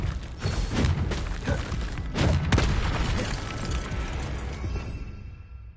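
Booming Confringo fire-spell explosions in Hogwarts Legacy, dense and loud with several crackling impacts over continuous combat noise that fades out at the end.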